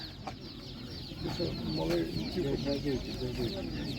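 Chickens cluck in a series of short, mid-pitched calls over a steady background at an animal market, with some indistinct murmuring nearby.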